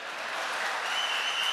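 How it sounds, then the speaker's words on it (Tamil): An audience claps after a line of a Tamil political speech, a dense, even wash of applause from a large crowd with no voices over it. "கைதட்டுறதுக்கு கேப் விட்டு அடுத்த வரி ஆரம்பிச்சபார்"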